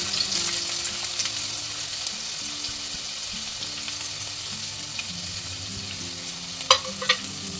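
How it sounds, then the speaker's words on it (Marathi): Onion frying with garlic and whole spices in oil for chicken biryani, giving a dense, continuous sizzle up close, with occasional light stirring clicks scattered through it and no talking. "लगेचच आपण कांदा ॲड करून घेणार आहोत."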